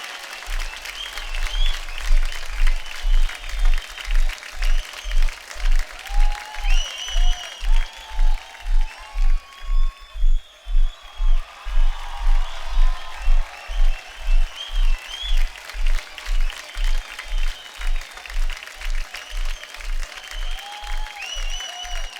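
Studio audience applause on a Hindi comedy talk show set, a loud sustained crowd clapping as guests Riteish Deshmukh and Akshay Kumar walk on, swelling in waves and holding steady throughout.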